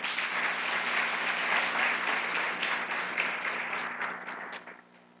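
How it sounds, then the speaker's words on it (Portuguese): A church congregation applauding, dense sustained clapping from a large crowd that stays strong and then fades out near the end, with a low steady hum beneath. "Você pode aplaudir a Jesus?"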